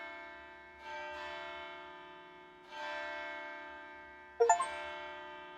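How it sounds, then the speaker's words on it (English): Bells in the video game Death Mark 2 ring three times with spaced, resonant strikes, each tone lingering and fading before the next, the last brighter and sharper. "Bells."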